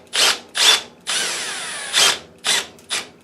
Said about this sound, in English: I'll drill that spot